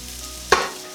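Chickpea and pistachio burgers in a frying pan give a sudden loud sizzle burst as they are turned, over a low steady background hiss.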